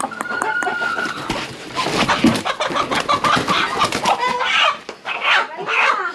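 Chickens clucking and squawking close by in a rural yard, busy overlapping calls with scattered bird chirps, as people move around and try to catch a chicken.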